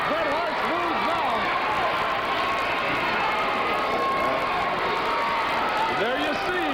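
Steady roar of a wrestling arena crowd in the NWA World Wide Wrestling video game, continuous and loud throughout with a commentator's voice running over it.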